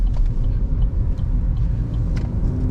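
A car on the road during a beginner driving lesson, heard as a steady low rumbling engine and road noise that holds at a fairly close, even level throughout.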